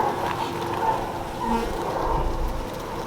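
Bees buzzing steadily around drawn-out comb in a Flow Hive, carrying pollen on their legs; a continuous low drone that stays close and even, with faint handling noise underneath.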